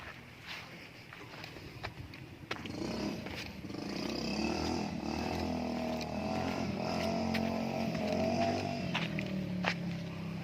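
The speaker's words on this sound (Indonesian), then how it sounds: "Ini motor kita." A motorcycle rides along a rural road between Panjalu and Panawangan in Ciamis, its engine droning continuously at moderate distance and rising slightly in pitch as it goes, with no one speaking.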